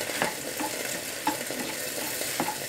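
Rice being stirred in a frying pan to melt soy jelly, a low steady sizzle broken by a few soft scraping strokes of a utensil, close and fairly quiet.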